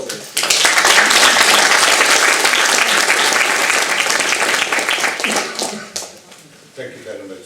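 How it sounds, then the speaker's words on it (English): An audience at a ZEF Advisory Board panel meeting applauds warmly with a loud, sustained burst of clapping that gradually thins out and fades, with a voice emerging near the end. "Let's warmly applaud them before this."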